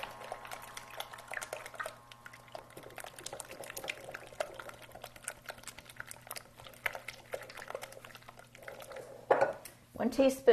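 Brownie mixture being stirred in a pot for cookie dough brownies: soft, repeated scraping and clinking of a utensil against the pot, fairly faint and steady, with a brief louder knock near the end.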